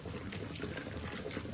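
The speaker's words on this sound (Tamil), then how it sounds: "சுடுதண்ணி ஊற்றி" Hot water poured over cleaned mushrooms with turmeric and salt during home cooking, a steady close splashing pour that runs the full short stretch without any talk.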